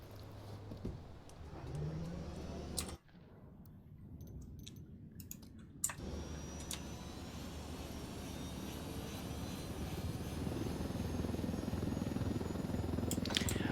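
A helicopter in the video game Ghost Recon Wildlands gives a continuous low rotor and engine rumble, fairly quiet and steady throughout, briefly muffled partway through, with no talking.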